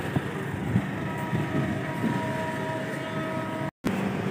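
Passenger train at Padma station, Bangladesh, with a steady rumble of railcars and a faint high wheel tone running throughout, broken by one brief silent gap near the end.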